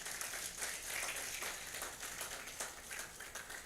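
A hall audience at a county health scientific symposium in Kilifi, Kenya applauds a doctor, a steady, even wash of many hands clapping that stays fairly quiet and distant for the whole stretch.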